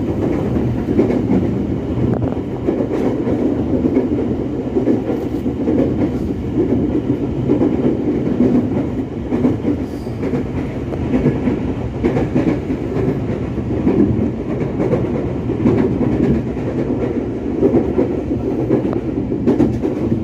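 Indonesian commuter train on the Bogor to Jakarta line rumbling steadily along the rails, a continuous loud low roar with faint rhythmic clicks of wheels over joints, heard from inside the carriage with no talk.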